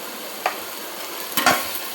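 Turmeric goes into ginger and garlic frying in oil, followed by a soft sizzle and a few quick scraping stirs of a spoon against the pan.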